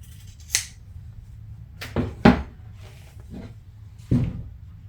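Scissors cut through seat upholstery material for an MGB seat in a few sharp, separate snips and rustles spread over several seconds, close and fairly quiet with no talk.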